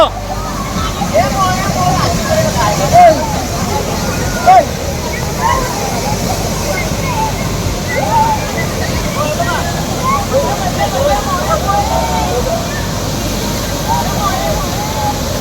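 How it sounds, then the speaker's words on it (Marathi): A loud waterfall roars continuously throughout, with faint voices and crowd chatter mixed into the steady rush. "काय धबधबा आहे खरोखर"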